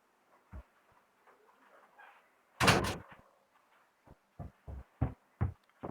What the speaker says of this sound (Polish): muszę zamknąć drzwi u mnie w pokoju